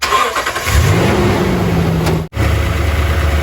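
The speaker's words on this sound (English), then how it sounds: "I am going to go ahead and start the engine" A car engine cranks, catches and runs loudly close by with no power steering pump noise after a fluid change, cutting out for an instant partway through before rumbling on steadily.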